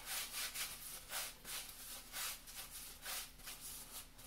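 Flour is rubbed by hand into the cracks of a banneton proofing basket, making rhythmic soft scratchy swishes about every half second, close and fairly quiet, with no voices.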